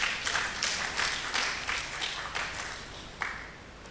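Audience applause at a preeclampsia scientific symposium in Kumasi, a thin spread of clapping with repeated soft bursts, moderately distant and fairly faint, one sharper clap near the end.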